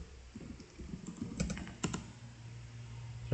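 Quiet typing on a computer keyboard, a short run of soft key clicks followed by a few sharper taps, close and alone.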